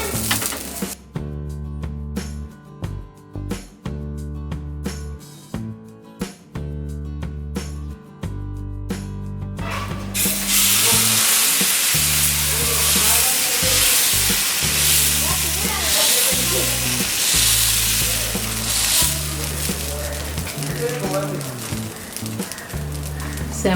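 An oil-dipped onion hits a hot cast iron tava while making millet set dosa, and a bright steady sizzle begins partway through and carries on beneath continuous background music.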